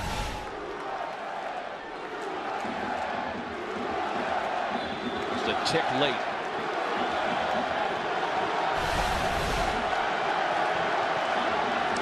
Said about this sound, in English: Crowd making as much noise as it has all night long.